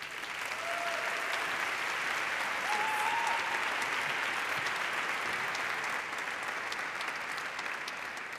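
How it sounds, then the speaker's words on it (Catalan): An audience at a university graduation ceremony applauds a speaker in a long, dense, steady round of clapping that fills the hall at an even level, with a couple of faint whistles rising above it. "Un fort aplaudiment per la Carla."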